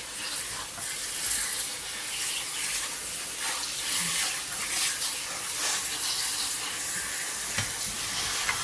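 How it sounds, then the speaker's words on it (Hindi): Beef trotters being washed under running tap water, a steady close splashing rush with scattered clinks and wet knocks against the sink. "पानी से साफ कर लीजिए।"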